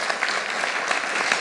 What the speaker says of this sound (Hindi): एक बार तालियां न्यूज 24 टुडेज चाणक्य के पोल के लिए